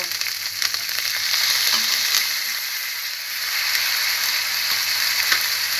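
Chicken pieces fry loudly in a salted spice masala, making a strong, continuous close-up sizzle with faint stirring clicks. No one speaks.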